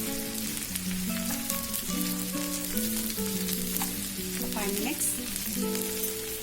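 Ivy gourd (tindora) frying in a pan, a steady close sizzle running throughout with soft stirring scrapes, while background music plays over it.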